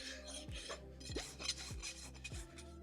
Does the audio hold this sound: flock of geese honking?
no